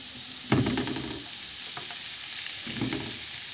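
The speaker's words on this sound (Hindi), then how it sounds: "अभी हम डालेंगे इसमें चिकन" Chicken is added to a hot pan and fries with a steady sizzle, broken by two bursts of stirring and scraping, close and moderately loud, with no talk.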